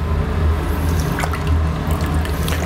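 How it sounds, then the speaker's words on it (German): A breaded carp is dragged through water in a kitchen, giving a steady close wash of sloshing and dripping water with no talk. "Jetzt wird er durchs Wasser gezogen."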